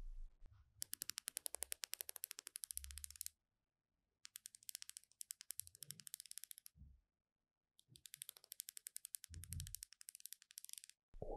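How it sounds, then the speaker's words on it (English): The rotating bezel of an IWC Aqua Timer watch is turned in three bursts of rapid, crisp ratcheting clicks, close and distinct, separated by short silences. "I just bought it because of the clicking sound of the bezel."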